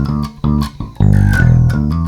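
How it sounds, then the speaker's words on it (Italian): A funky bass line with a wah-like, quacking envelope filter sweep on each note, playing a short rhythmic groove alone. "ed è un filtro di inviluppo"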